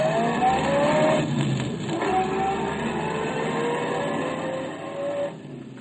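A car engine drones and hums steadily as the vehicle pulls away, loud and close at first and then easing off, a radio drama sound effect with no voices over it.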